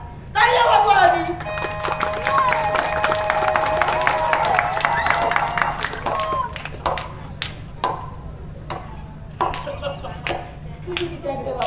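A theatre audience at a Malvani comedy play breaks into a burst of clapping and cheering. The applause then thins into scattered claps while people keep talking.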